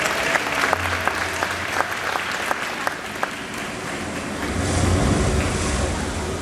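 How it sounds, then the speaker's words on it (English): An audience claps at an outdoor Pacific white-sided dolphin show, steady crowd applause with wind and rumbling water noise swelling toward the end. "let's bring them out with a warm round of applause."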